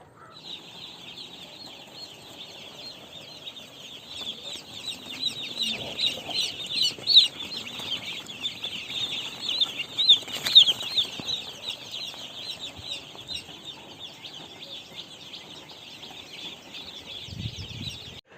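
Chickens cluck and chatter continuously on a poultry farm near an electric brooder, a dense flock sound with occasional louder squawks and brief wing flaps, steady throughout with no talking.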